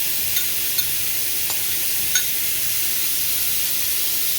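Sausage and cut peaches sizzle in oil and vinegar in a pan, a steady close hiss broken by a few soft clicks of stirring, no talking.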